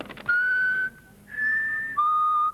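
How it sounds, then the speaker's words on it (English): An electronic whistling keyring sounds three pure, steady whistled tones in a row, each held under a second, with small pitch changes between them, loud and close. "It's a whistling keyring."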